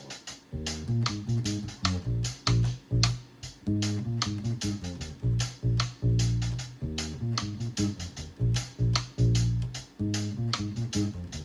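A bouncy reggae bass line displaced by a sixteenth note plays short, punchy notes with an offbeat feel, accompanied by light percussion, repeating in a steady groove.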